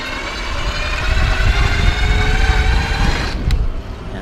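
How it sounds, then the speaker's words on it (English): An electric bike motor is run under throttle, giving a steady, fairly loud whirring drone with wind rush that holds for a few seconds before easing off. "I'm activating the throttle."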